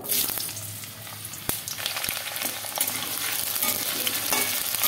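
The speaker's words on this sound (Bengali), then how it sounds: "তেলটা একটু গরম হোক, আলুটা ভাজবো।" Potatoes fry in mustard oil in a wok with a steady, close sizzle and crackle, broken by occasional scrapes and knocks of stirring.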